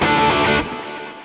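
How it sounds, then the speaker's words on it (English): A dense, distorted electric guitar chord through a humbucker pickup into a Diezel Herbert amp rings loud and full, then decays into a sustained tail. "Here's humbucker."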